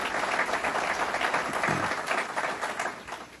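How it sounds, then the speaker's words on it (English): An audience applauds state legislators at a New York State budget event in Westchester County, a steady, fairly close wash of clapping that fades out toward the end. "let's give them a round of applause"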